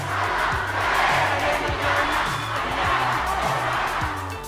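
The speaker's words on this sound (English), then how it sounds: "She was speechless hearing the Mexican fans scream her name," A loud crowd of Mexican fans shouting and cheering for Ariana Grande at a film media event, a continuous roar with rhythmic chant-like surges and a low pulsing beat underneath throughout.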